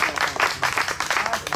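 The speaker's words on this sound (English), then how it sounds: "Clap." Audience at an Estero Island historical society pioneers presentation claps loudly and close, a brisk burst of overlapping hand claps in quick rhythmic clusters.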